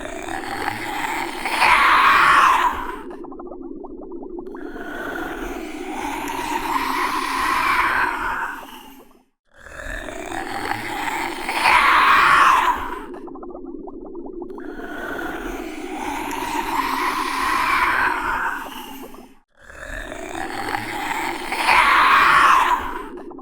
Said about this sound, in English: Next up is the rat from The Princess Bride.